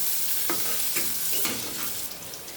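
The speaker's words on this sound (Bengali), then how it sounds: "আমার পেঁয়াজটা ভাজা হতে থাক" Chopped onions fry in hot oil with cinnamon, sugar and a bay leaf for an egg roast, a steady close sizzle broken by a few soft stirring scrapes.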